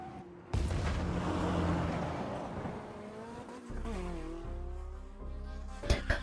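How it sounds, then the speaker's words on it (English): A motorcycle roars at full throttle in the game Love and Deepspace while weaving through a combat zone, a loud sustained engine drone that shifts pitch midway, with sharp bangs near the end. "The motorcycle roars at full throttle as we weave through the N109 zone."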